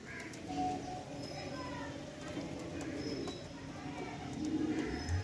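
Kalshira pigeons, an old-generation male and female, coo softly with low repeated throaty notes under steady background noise, while someone talks over them.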